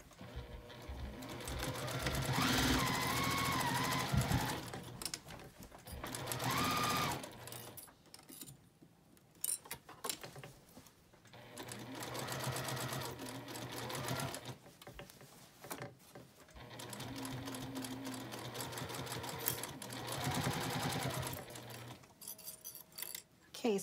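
Sewing machine stitching binding around a quilted tea cozy, running in several close bursts of rapid whirring separated by short stops, with light handling noises and occasional murmured talk.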